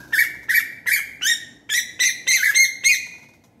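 Perling birds (glossy starlings) feeding at an urban garden feeding spot squabble with a run of about nine sharp, loud, close chirps and squawks in quick succession, no talking.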